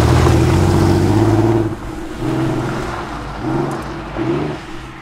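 A Porsche Carrera 2 race car engine revs at a circuit endurance race, a loud, close roar that drops and swells again in a few throttle surges.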